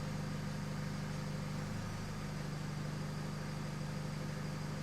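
A remapped Nissan X-Trail diesel with EGR and DPF deleted idles steadily at low volume, a continuous low hum with a faint even rumble and no talking.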